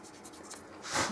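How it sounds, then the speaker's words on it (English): Abrasive paper rubs inside a nut slot on a chambered-body electric mandolin, a soft, close scratching that swells into a brief, louder rasp near the end. "Clean out the slot with a little bit of abrasive paper."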